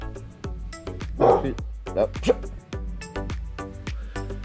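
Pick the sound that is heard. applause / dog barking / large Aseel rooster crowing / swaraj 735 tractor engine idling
dog barking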